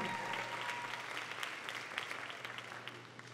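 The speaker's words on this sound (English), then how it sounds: "Come on, somebody clap." Congregation clapping during a church sermon, a steady wash of many hands, fairly faint and distant, with a low hum underneath.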